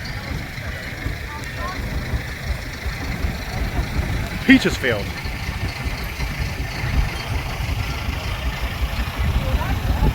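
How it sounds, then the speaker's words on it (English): Steam traction engines running at a steam rally, a low, continuous mechanical rumble with a brief metallic clank partway through, heard beneath someone talking. "Some of the traction engines here."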